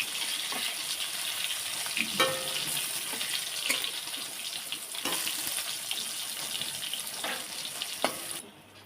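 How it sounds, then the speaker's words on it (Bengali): Steady, dense sizzle of eggplant frying in hot oil, continuous and close, with a few brief clinks and pops before it cuts off near the end. "বেগুনটা ভালো করে ভেজে নেব একটু ভালো করে উল্টো পাল্টে ভেজে নিতে হবে"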